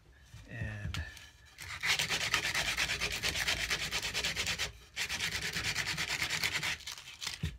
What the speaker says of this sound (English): take your file, your round file, and then wrap it with the sandpaper round-wise